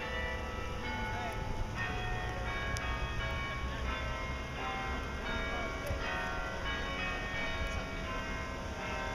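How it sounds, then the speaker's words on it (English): A church bell tolls at noon near the Occupy Albany protest site, with strikes spaced a few seconds apart over a dense, steady outdoor hum and traffic noise. "The bell's ringing."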